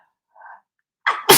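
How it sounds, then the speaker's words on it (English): A single close, loud human sneeze: a short intake of breath followed by a sharp burst. "You realize that was 7 sneezes, right?"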